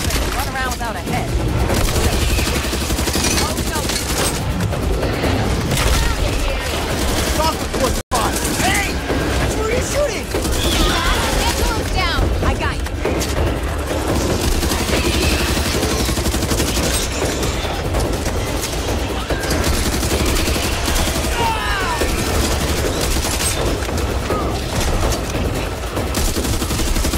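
Dense, continuous gunfire and explosions from the Back 4 Blood shooter game, with rapid bursts and booms layered loudly throughout, under intermittent in-game voices.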